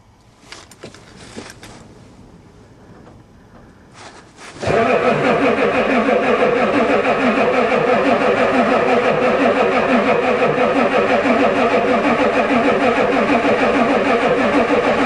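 A diesel Ford truck cranks briefly in a few short, uneven bursts, then fires and catches, settling into a loud, steady, close diesel rumble that runs continuously to the end.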